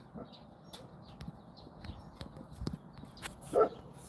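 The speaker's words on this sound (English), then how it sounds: "what are you barking at?" A dog barks a few short, fairly distant times from a porch, scattered among light footsteps and faint outdoor background.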